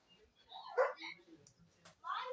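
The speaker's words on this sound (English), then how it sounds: "my dog just hollered and said she agrees" A pet dog at home lets out a few short barks and yips in a kitchen while food cooks, fairly close and moderately loud, with brief gaps between bursts and faint background sounds.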